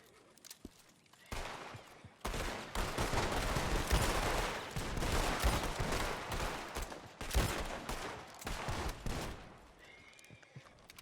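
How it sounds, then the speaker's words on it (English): Shots fired into the air as a funeral salute in a video game. Dense, loud, overlapping gunfire goes on for several seconds, with brief gaps between volleys, before it trails off into quieter ambience. "I want you to point this weapon in the air, and I would like each person to fire 3 shots of respect to him"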